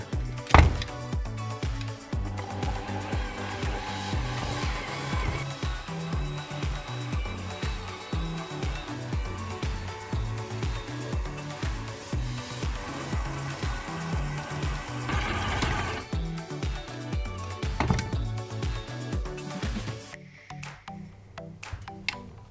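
An electric mixer whirs steadily through cookie dough for traditional Greek Easter koulourakia, a continuous motor drone with rhythmic thumping of the beaters against the bowl, stopping abruptly near the end.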